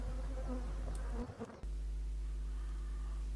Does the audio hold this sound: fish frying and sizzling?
no